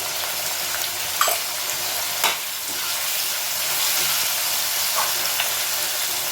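Masala spices, garam masala and pepper powder, sauté in a pan for a baby corn gravy, giving a loud, steady sizzle and hiss with a few soft stirring clicks.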